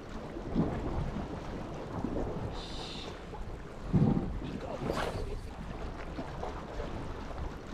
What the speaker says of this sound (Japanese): ちょっと風が出てきました。